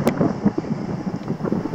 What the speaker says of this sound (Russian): Конечно, такой ветер будет мне очень сильно мешать, но я попробую.